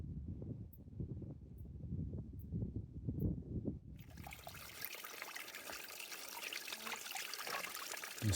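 Spring water trickles through a leaf spout on a trail, a soft continuous dribble; a low rumble fills the first half, then a brighter, steady stream of water carries on alone.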